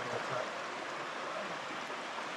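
Water rushes steadily at the top of a gravity-fed water system near a pipe connection, a constant broadband hiss with no pauses or voices.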